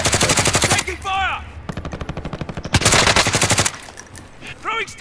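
Rapid automatic weapon fire in the shooter game Call of Duty Warzone, several fast rattling bursts close up, interleaved with brief electronic chirps from the game.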